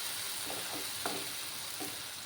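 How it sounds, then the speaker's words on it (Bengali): A spice paste sizzles steadily in a pan for a small fish curry, a faint continuous frying hiss with a few soft stirring scrapes, no voices. "ভালোভাবে মশলাটাকে কষাতে হবে"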